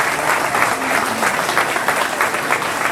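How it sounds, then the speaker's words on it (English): Steady applause from a large audience at the 2022 Alabama gubernatorial debate, dense clapping filling the room without a break. "So be sure and give a big round of applause to Black Patch Distilling."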